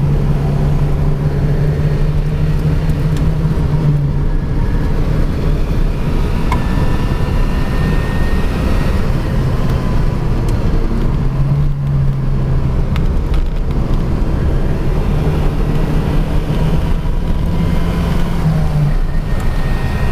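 Porsche 944 Turbo Cup race car, front-engined, driven hard on a racetrack: a steady, loud engine drone with held gear tones, brief dips between shifts and constant cabin roar throughout.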